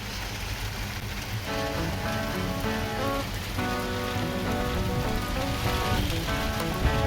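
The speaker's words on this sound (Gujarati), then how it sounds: "મિત્રો વરસાદ ફૂલ વધી રહ્યો છે" Heavy rain pours down steadily on a first rainy day, a dense, continuous hiss of drops drumming on surfaces, loud and close throughout with no pauses.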